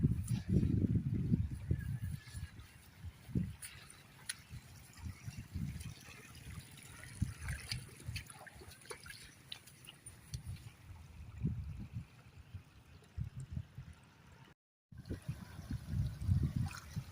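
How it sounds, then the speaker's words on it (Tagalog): Floodwater from Typhoon Carina's rain rushing steadily, a continuous mid-level wash and gurgle with scattered splashes and occasional low rumbles, briefly cut out near the end. "Malakas ang tubig."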